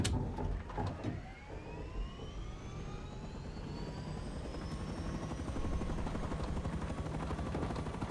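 An attack helicopter in the video game Rust whirs with a steady rotor drone and a rising turbine whine, while bursts of gunfire crackle at the start. The sound is fairly faint and distant, with no speech.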